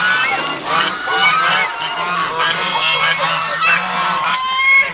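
A flock of geese honks steadily and loudly up close outdoors in winter, with no talk over the calls.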